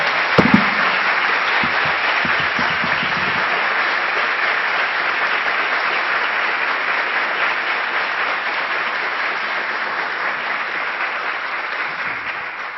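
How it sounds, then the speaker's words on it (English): Sustained, loud applause from an audience at the end of a Barbara Oakley lecture in the University Council auditorium of the University of São Paulo, steady and dense throughout without pause, with a few faint voices early on. "give you very heartfelt round of applause."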